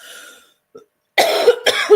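Two sharp, harsh coughs in quick succession, close and loud, after a brief quiet pause.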